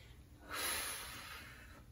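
A single long, steady exhale during a weighted core exercise, a close breathy rush that swells quickly and slowly fades over a quiet room.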